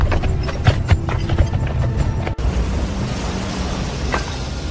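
Horses ridden with a fierce, foreign Khalasar, hooves clip-clopping in a steady, close rhythm that continues alone through the clip, with no voices.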